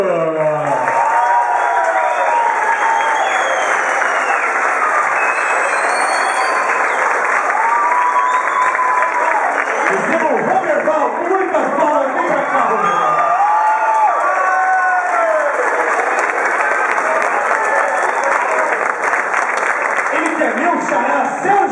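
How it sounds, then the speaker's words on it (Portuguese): Loud, sustained applause and cheering from a dinner crowd welcoming the 1992 champions, with whoops and shouts over continuous clapping and voices calling out throughout. "Fiquem de pé, recebam com muitas palmas eles."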